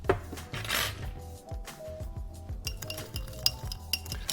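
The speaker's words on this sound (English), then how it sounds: "I'm just going to mix it through and just make sure that sugar has kind of started to dissolve with the bitters" Sugar and dashes of bitters being stirred in a glass for a banana spiced rum Old Fashioned, with light, quick clinks of a spoon against the glass repeating close up.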